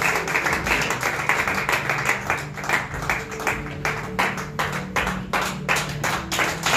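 Congregation at a French Christian church service clapping in a loud, steady rhythm, with a sustained murmur of voices and music underneath and no clear speech.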